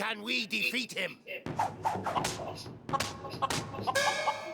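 A chicken clucks and squawks in the LEGO NINJAGO video game on PS5, with thumps and game effects mixed in, and people talk over it.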